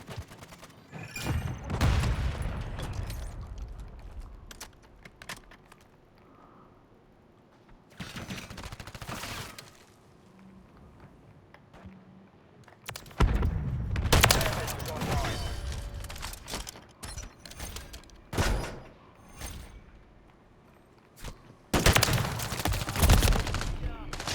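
Bursts of automatic gunfire and explosions from a Call of Duty match erupt in loud clusters separated by quieter gaps, mixed with thuds and booms, while a player talks excitedly throughout.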